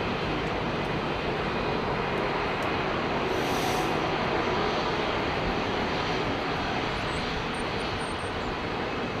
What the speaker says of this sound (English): China Eastern, 777 coming.